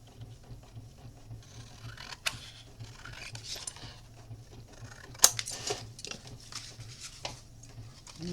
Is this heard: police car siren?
no